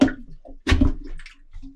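A plunger forces water out of a toilet bowl during cabin winterizing, close wet sloshing and squishing bursts, one strong surge in the middle with smaller gurgles around it.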